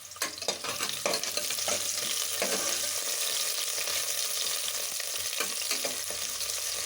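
Onion and curry leaves frying in a pan, a steady close sizzle with a spoon stirring and scraping now and then, continuous and moderately loud throughout.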